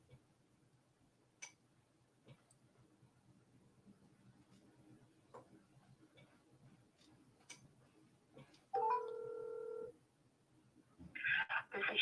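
A telephone is dialed alone after a long quiet stretch, giving a single sustained tone of about a second followed by a short, bright burst of keypad beeps.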